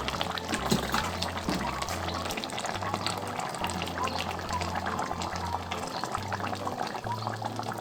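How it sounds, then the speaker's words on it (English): Palm oil pours steadily into a pot of Ekwang, a Cameroonian soup, with a continuous liquid rush and sizzle. It sounds close and fairly loud. "So I'm going to add my palm oil in it right now."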